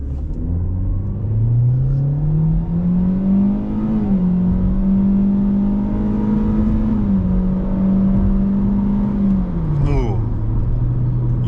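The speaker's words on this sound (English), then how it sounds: "I always want to see what a 0 to 60 of 8 seconds feels like" A 2024 Hyundai Elantra SEL in sport mode with traction control off accelerating hard from a standstill, engine droning and rising through gear changes, loud from inside the cabin, with a person speaking over it.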